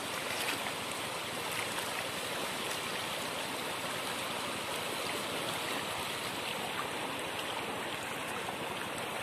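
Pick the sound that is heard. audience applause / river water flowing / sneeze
river water flowing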